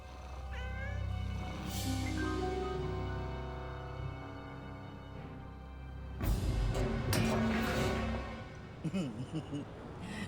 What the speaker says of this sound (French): C'est pas une souris, ça. Le chat.